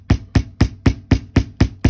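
Rubber hammer pounding a wire-wrapped chain link, eight evenly spaced dull thuds in a steady quick rhythm, close and fairly loud with no talking.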